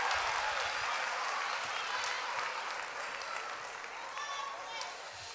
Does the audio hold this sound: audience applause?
yes